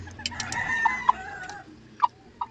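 Several short hen clucks, a few bright close squawks scattered across the moment, from a backyard laying hen that has just laid eggs.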